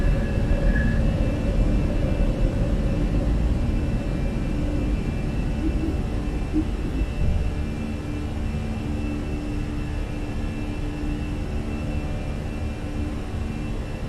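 Jet engines of a Fenix Airbus A320 in a flight simulator climbing after takeoff from Las Vegas, a steady loud roar with a constant rumbling drone that eases slightly partway through.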